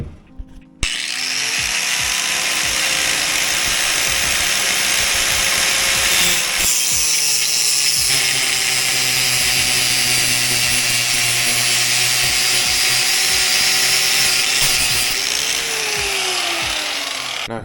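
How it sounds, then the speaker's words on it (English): A cutting wheel slices through AN fuel line hose, a loud, continuous high-pitched grinding whine that starts abruptly and holds steady close up, with small shifts in pitch as it bites. "What I like to do is I like to use an actual cutting wheel to cut my lines"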